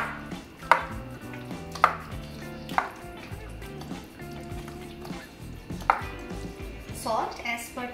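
Roasted eggplant is mashed with fresh cream and salt in a pan or bowl, giving soft squishy mashing strokes broken by several sharp utensil knocks, close up and without talk.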